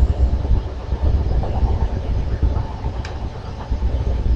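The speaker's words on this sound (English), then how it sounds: "I know y'all probably can hear that train coming through" A train passing by close at hand, a loud, steady low rumble that holds throughout with no clear breaks.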